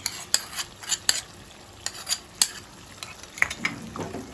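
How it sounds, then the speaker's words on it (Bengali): Chicken masala with tomato and chili sauce fries in a pan while a spoon stirs it, giving a string of sharp scraping clinks and soft sizzling bursts at an uneven pace, close and fairly loud. "দিয়ে আমি এইভাবে এটাকে নাড়িয়ে নাড়িয়ে কষিয়ে নেব"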